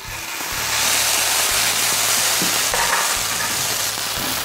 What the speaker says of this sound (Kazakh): Енді біз қызанағымызды кішкене қызартып қуырып аламыз.